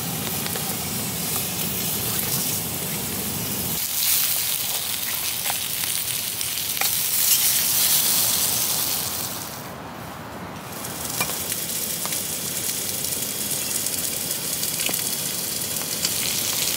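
Beans frying and sizzling in a pan on a camp stove while camping in the rain, a steady close hiss throughout that briefly dips and softens near the middle before resuming.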